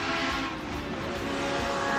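A Chevron race car driven by Franco Scrivante at the Simola classic car hill climb, its engine a loud sustained high-revving roar with a steady pitch, passing close and strong throughout, no talk.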